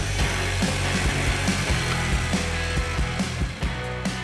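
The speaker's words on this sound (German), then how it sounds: "Darum vorbohren und absenken für einen guten Halt und überzeugende Optik." A Parkside power drill bores pilot holes and countersinks into wood for a wall shelf, a steady whirring buzz with short bursts of cutting texture, close and loud with no voices.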